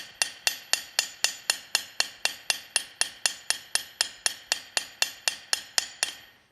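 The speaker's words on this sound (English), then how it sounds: "I'm just very gently letting the hammer do the work." Hammer repeatedly striking bronze links during hand forging, about twenty evenly spaced sharp metallic blows at a steady, quick rhythm, close and clear with no talking.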